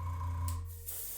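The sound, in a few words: spraying paint color directly onto resin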